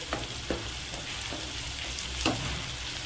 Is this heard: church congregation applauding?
no